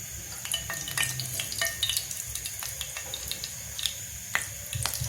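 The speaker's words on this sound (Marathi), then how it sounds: "तेल चांगलं कडकड होऊ द्यायचं आणि कडकड झाल्यावर त्याच्यामध्ये थोडं जिरं टाकायचं" Cumin seeds crackle and sizzle in hot oil, a continuous close frying hiss dotted with sharp pops and spits throughout.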